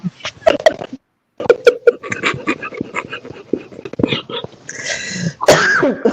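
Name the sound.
coughing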